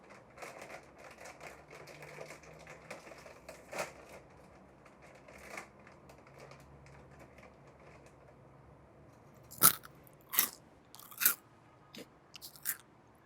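Cheetos American cheese corn sticks crunch between the teeth in a quiet room, faint soft crackles first, then several sharp loud bites in quick succession near the end.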